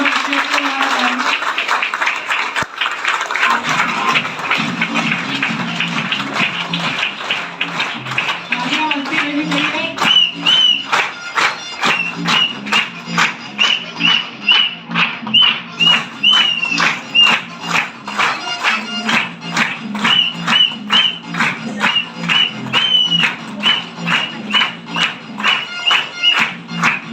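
An audience at a stage event claps to welcome leaders onto the stage, a sustained burst of applause that settles into loud rhythmic unison clapping under music and a few voices.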